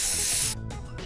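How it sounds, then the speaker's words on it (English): A steady, loud spray paint hiss sprays silver paint onto a wooden frame for about half a second, then cuts off, leaving low rumbling room noise. "Spray paint the frame silver."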